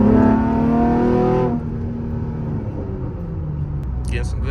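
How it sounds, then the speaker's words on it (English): A loud 5th-generation Camaro exhaust roars at close range, then the engine note drops off as it lets off the throttle and a few crackles and pops follow, heard from inside the car. "Getting some good crackle-lackles back there."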